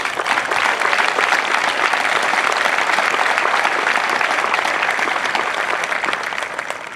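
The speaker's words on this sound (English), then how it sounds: "So I want to give you a round of applause right now just to say thank you for the family." Crowd applause at an Air Force basic training graduation parade: dense, continuous clapping from a large audience outdoors, steady and even for the whole stretch, with no talk.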